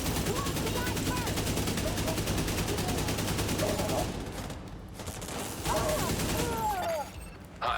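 Sustained automatic rifle fire from an AK in a video game, a dense, loud continuous volley that briefly thins out and then bursts again near the end.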